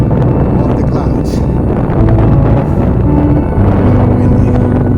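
Strong, chilly wind on the Appalachian Trail buffets the microphone in a steady, low roar, with a faint hint of voices underneath.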